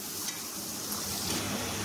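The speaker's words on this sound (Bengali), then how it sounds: "এখন পেঁয়াজটাকে খুব ভালো করে ভেজে নিতে হবে" Chopped onions frying in a wok for prawn dopiaza, a steady close sizzle with faint stirring and no talk.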